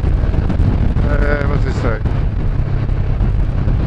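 Strong wind buffets the microphone on an open rural road, a loud constant rumbling roar, with a person speaking briefly over it.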